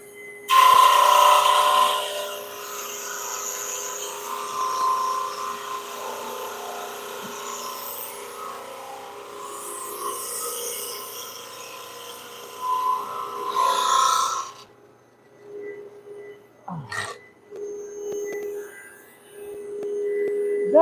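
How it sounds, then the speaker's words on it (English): Large 40-pound piece of wood being sanded down with a power sander, a loud steady abrasive whir for about fifteen seconds that dips and swells, then stops, followed by quieter scraping and handling noises. "And it's got to be sanded down to 3 inches."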